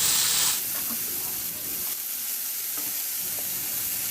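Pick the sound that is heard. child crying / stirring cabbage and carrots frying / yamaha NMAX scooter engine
stirring cabbage and carrots frying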